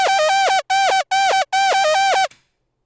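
Bright synthesizer lead built with an analog oscillator and a white noise layer, played as four loud pulsing phrases with short gaps, each note bending downward, then a sudden cutoff.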